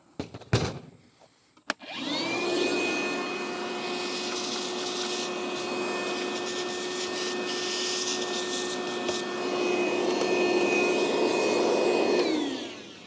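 A jigsaw fitted with a 10-tooth-per-inch wood blade cuts aluminum, starting after a few knocks and then running at a steady, loud, even buzz for about ten seconds before winding down.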